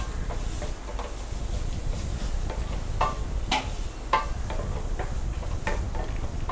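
Spices and turmeric frying in a pan for Tamil rice sevai, a steady close sizzle with scattered light ticks and stirring clinks throughout, no talking.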